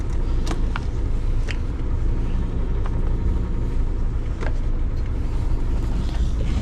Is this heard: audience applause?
no